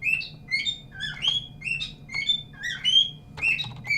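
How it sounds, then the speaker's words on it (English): A bird indoors in a room gives repeated bright, high chirps and short tweeting phrases in a quick, steady rhythm, loud and close, with no voices. "Shut up, bird."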